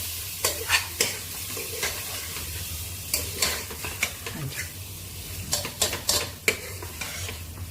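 Potatoes coated in salt and masala frying in a pan while being stirred, a low continuous sizzle broken by frequent sharp scraping and clinking strokes of a spoon against the pan, close and fairly loud.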